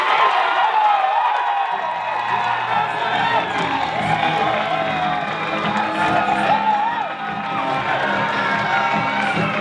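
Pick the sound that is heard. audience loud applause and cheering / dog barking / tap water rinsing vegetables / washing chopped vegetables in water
audience loud applause and cheering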